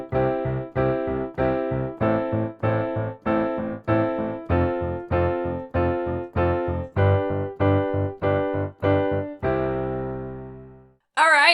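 Piano playing a rock groove with chord inversions, steady repeated chord stabs in an even pulse with a bass line underneath, close and clear, ending on a held chord.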